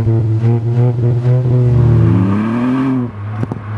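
A 1.5-litre engine in a GTI hot hatch revs loudly and close up, rising through a couple of quick blips before one long climbing sweep, then cutting off with a brief mechanical click afterward.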